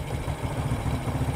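A motorcycle engine idles unevenly after its carburetor air screw is adjusted on a serviced carburetor that still burns too much fuel, a close low putter with a lumpy, wavering rhythm and light mechanical clatter, alone without speech.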